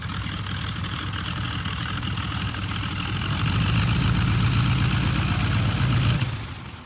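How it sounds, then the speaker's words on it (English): A German Messerschmitt jet aircraft engine roars steadily and loudly up close, with a dense, rough, mid-pitched rumble and a high whine. It grows slightly stronger before cutting off sharply near the end. "It's a German Messerschmitt jet."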